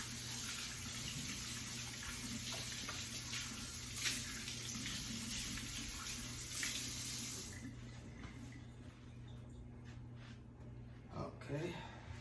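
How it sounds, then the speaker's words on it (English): Hands washed under a running kitchen tap: a steady close gush of water into the sink for about seven seconds, then the flow cuts off, leaving faint splashes and drips. "Wash my hands again because I'm going to be touching food."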